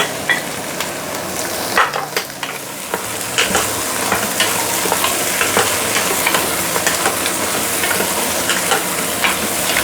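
Blanched pork leg and herbs sizzle loudly in a pot, with a spatula stirring in repeated scraping strokes over a constant frying hiss.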